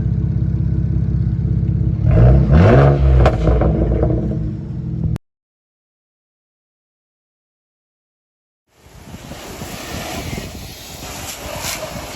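A BMW 335xi with an aftermarket exhaust gives a deep, rough rev that swells for a few seconds and then cuts off abruptly. Quiet follows, then low outdoor background noise.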